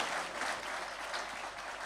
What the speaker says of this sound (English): Please give them a round of applause as well, please.